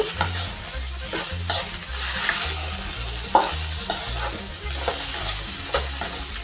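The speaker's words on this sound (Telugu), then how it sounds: "ఆయిల్లో బాగా ఫ్రై చేసుకోవాలి చూడండి కొంచెం లైట్ బంక బంకగా ఉంటుందని అదంతా వెళ్ళిపోవాలని బాగా ఫ్రై చేసుకోవాలి" Okra frying in oil in a pan for masala curry, a continuous close sizzle with repeated scraping and stirring strokes and a low rhythmic thumping underneath, no voices.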